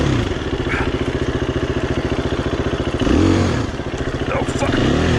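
A motorcycle fitted with a lowering link putters along a beginner trail loop at Emma Long, its engine thumping in a rapid, even pulse close by, with a brief surge in revs partway through.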